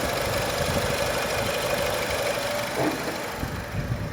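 A freshly imported Renault Megane 3 idles steadily with a mid-pitched engine hum and faint vibration, heard close and alone, with no talk over it.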